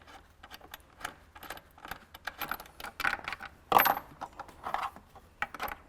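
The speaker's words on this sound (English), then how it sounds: "at this point, we're just removing some bolts." Metal clinks and rattles as bolts are backed out with a 10mm tool from a BMW underseat subwoofer, with a cluster of sharp, close taps and one brighter metallic clack partway through, all without talk.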